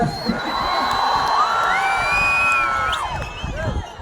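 A crowd at a political rally in Erode cheers, whoops and shouts continuously, with high-pitched yells and whistles rising above a dense, loud roar of many voices.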